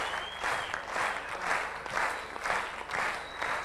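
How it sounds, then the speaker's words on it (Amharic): Warm applause from a student quiz competition audience sends a contestant back to her seat, a steady rippling wave of clapping that rises and falls in regular pulses, fairly close and continuous throughout. "እባካችሁ ሞቅ ባለ ጭብጨባ ወደ ቦታዋ ተሸኙናላችሁ።"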